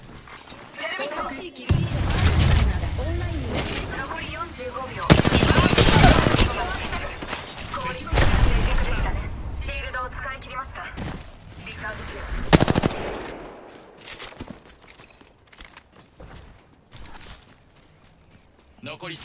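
Rapid automatic gunfire from an Apex Legends match bursts repeatedly in loud volleys, mixed with impacts and game effects, while someone talks over the action.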